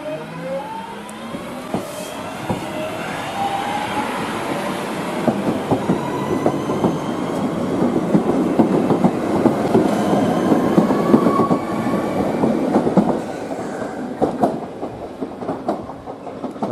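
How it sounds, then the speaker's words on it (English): A train runs along a little-used, poorly kept stretch of the Woodhead line near Dinting, heading toward Hadfield, with a steady rumble and clickety-clack of wheels over rail joints that swells slightly mid-pass and carries on throughout. "that train's on its way to Hadfield"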